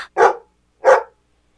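Two short, loud barks from a dog, spaced about half a second apart, close and clear with silence around them.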